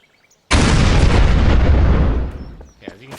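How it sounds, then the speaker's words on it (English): Large 500-pound bomb detonating in Garry's Mod with the gbombs addon: one sudden, loud blast that roars for about two seconds before tapering off, followed by a faint voice. "as you can tell, it's very large explosions"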